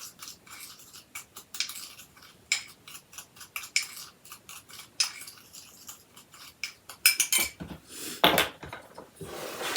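Sourdough coffee cake batter is mixed in a bowl, lumps broken up with repeated scraping and tapping strokes in an uneven rhythm, close and fairly crisp, growing busier toward the end, with no voices.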